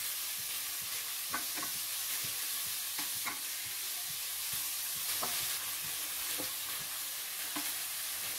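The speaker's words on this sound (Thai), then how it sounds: "ผัดให้หมูสุกให้หมดเลยนะครับแล้วก็พริกแกงเนี่ยเขาจะเข้าไปซึมซับในตัวหมูนะครับผัดให้แห้งเลยนะครับ" Pork neck stir-fries dry with red curry paste in a hot pan, giving a loud, continuous sizzle with scattered light clicks and scrapes as the spatula tosses the meat.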